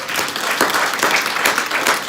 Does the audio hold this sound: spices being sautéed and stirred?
no